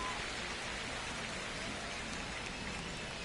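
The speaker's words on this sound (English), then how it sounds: "the field's not going to be able to hold up if the rain gets any worse than this" Steady rain falling on a ballpark in the video game MLB The Show 25, an even, unbroken hiss of drops on surfaces, faint and continuous with no voices.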